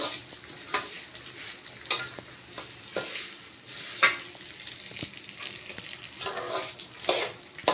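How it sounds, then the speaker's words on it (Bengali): Rice grains scrape and rustle as they are stirred in a hot brass pan, with sharp clinks of the spoon at irregular intervals over a light sizzle. "একটু নেড়ে চেড়ে নিই।"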